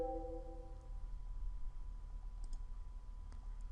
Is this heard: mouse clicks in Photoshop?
yes